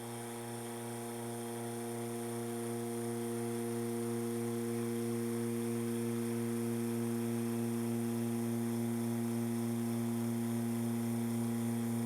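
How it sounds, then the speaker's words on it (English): A vacuum pump for a veneer vacuum press runs continuously with a steady electric hum and drone, holding a constant level throughout. "Turn on the pump, and now watch what happens."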